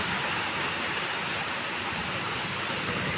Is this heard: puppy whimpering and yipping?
no